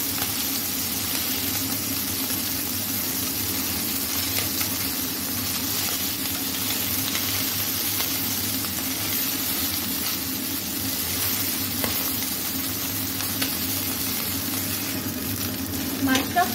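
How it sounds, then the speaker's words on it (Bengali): Fish fries in a little oil in a covered pan, a steady, even sizzle and hiss that runs continuously with faint low hum beneath. "মাছটা আমি ঢাকা দিয়ে ভাজা করব, কেন কি ফুটে মাছটা, তার জন্য।"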